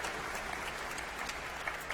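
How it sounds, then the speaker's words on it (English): An audience at a university graduation ceremony applauds, a steady, even wash of clapping from a large crowd, heard at a distance, with no talking over it. "You can clap."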